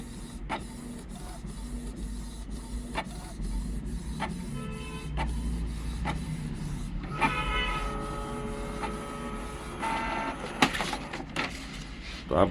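A Canon G2010 inkjet printer printing a page up close, its faint mechanical whirring broken by regular clicks and then louder buzzing feed motor runs that start and stop as the paper advances.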